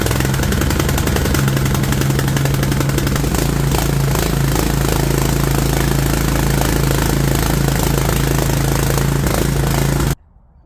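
A ride-on mower engine runs loud and close with a steady low chugging idle and rattling clatter, then cuts off abruptly near the end.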